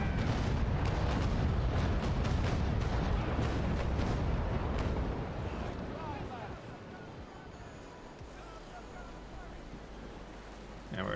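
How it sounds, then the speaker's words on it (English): Ship cannons firing a broadside in a sailing video game, a rumbling volley of booms and crackling blasts, loud at first and fading into wind and water, with someone talking over it. "I might as well fire broadside at him."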